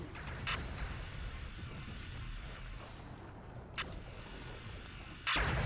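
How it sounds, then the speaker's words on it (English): Disruptor weapons fire in the Star Trek Legacy space combat game, heard as a few sharp booming bursts over a low, constant rumble of background game sound, with a louder blast near the end. "Disruptors are firing."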